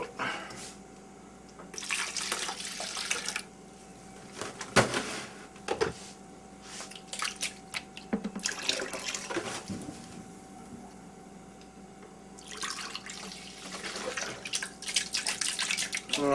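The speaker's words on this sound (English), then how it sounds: "Let's rinse that bad boy out." A water tap runs in short spurts to rinse out a bottle, intermittent close splashing and gushing broken by quieter gaps with faint clinks and handling noises.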